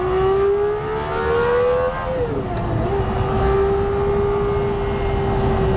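A Cosworth-built V12 road car engine that revs to around 12,500 RPM holds a loud, sustained high-pitched wail, dipping briefly in pitch midway before settling back to a steady scream.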